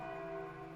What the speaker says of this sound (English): hear bells from the chapel begin to ring out.